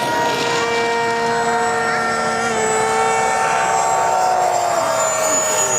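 An FMS Rafale 64mm EDF radio-controlled jet flies an inverted pass over a runway, its ducted fan giving a loud, steady whine with pitch sweeps as it passes, continuous for the whole stretch.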